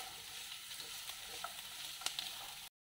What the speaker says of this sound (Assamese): এতিয়া আমি পিঁয়াজখিনি অলপমান গোল্ডেন ব্ৰাউন হোৱালৈকে ভাজি থাকিম